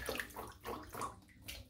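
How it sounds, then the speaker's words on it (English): Hands splash and slosh in water while rinsing off slick shaving soap, soft rhythmic swishes repeating several times, faint and close. "I'm really dousing my hands in the water here trying to get this,"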